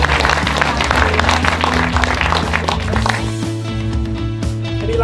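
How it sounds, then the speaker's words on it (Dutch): Audience applause at a club's annual association day, steady clapping that fades gradually, with low steady musical tones playing underneath. "En graag een applaus voor Carina en de crew."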